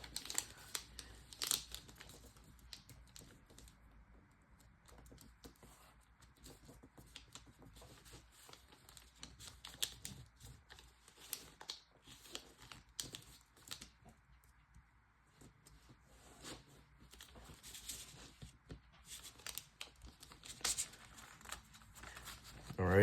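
Soft crinkling and rustling of paper being folded into an origami jet on a mat, faint and close, with a voice talking intermittently over the handling.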